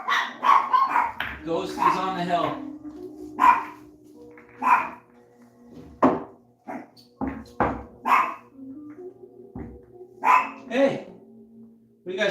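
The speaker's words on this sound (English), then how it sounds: "Those are my chihuahuas just barking about something over there." Small chihuahuas bark sporadically in short yipping bursts from somewhere off to one side, mixed with someone talking nearby during a pool practice session.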